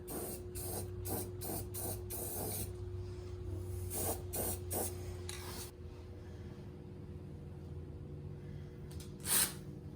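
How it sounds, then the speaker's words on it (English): Several short bursts of aerosol spray hissing in quick succession, sprayed toward a face, then a steady hiss, over a low machine hum; a final brief spray near the end. "Spray this right in my face here."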